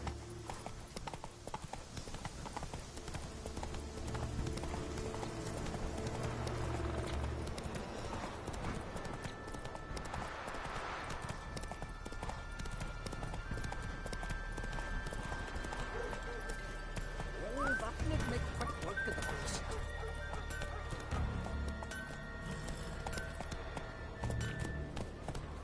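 Galloping hoofbeats of Roach, Geralt's horse in The Witcher 3, pound steadily and close, with game ambience and a voice speaking over the rhythmic clip-clop.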